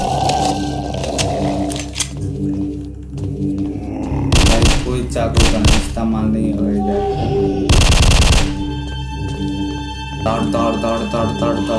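Several bursts of automatic gunfire ring out in the video game Invention II, sharp and loud over continuous game music, with someone talking in between.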